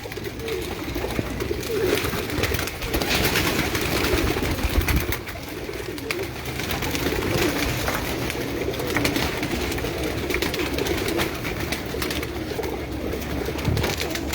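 Pigeons on a rooftop loft coo in a steady, overlapping murmur, the soft calls repeating continuously for a long stretch over a dense background hiss.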